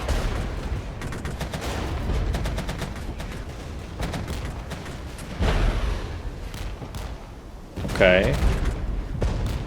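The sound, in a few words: artillery fire in the video game Regiments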